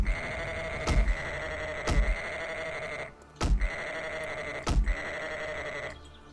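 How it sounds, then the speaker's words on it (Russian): Sheep bleating in the survival video game 7 Days to Die: four loud, drawn-out bleats spaced about a second apart with a brief pause midway, close and clear over a constant game ambience. "тут еще одна овца, друзья, появилась"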